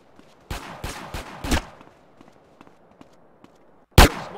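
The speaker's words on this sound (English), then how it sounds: "I hear you shooting a little bit" Bursts of video-game gunfire in GTA San Andreas: a quick volley of four or five shots, scattered fainter pops, then one loud close blast near the end.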